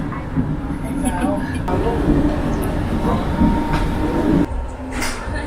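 A steady low rumble and rattle of a moving sleeper train's food car to Bangkok, Thailand, fills the space, with people talking over the continuous rolling noise.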